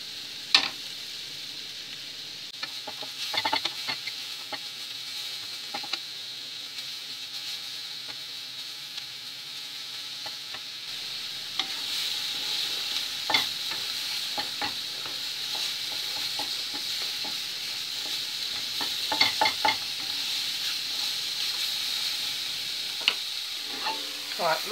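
Mushrooms sautéing in a pan at home, a continuous soft sizzle with faint scattered clicks and scrapes of stirring, steady and moderately quiet throughout, no voices.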